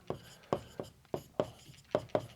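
Marker or chalk strokes on a board during a Class 12 maths lesson on probability: about eight sharp, scratchy writing strokes in an uneven rhythm, close and fairly clear, with no talking.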